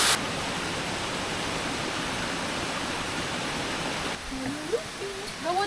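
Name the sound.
waterfall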